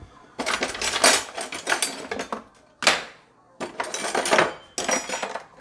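Someone rummages among dishes and cutlery in a kitchen to pull out a spoon, producing bursts of clinking and rattling metal and ceramic separated by short pauses.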